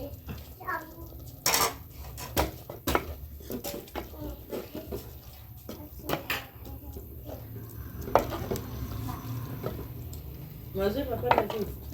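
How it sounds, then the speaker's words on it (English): Native vegetables being stirred in a cooking pot, with scattered metallic scrapes and clinks of utensil against pot, close and moderately loud, under a low background hum and occasional nearby voices. "Just continue stirring"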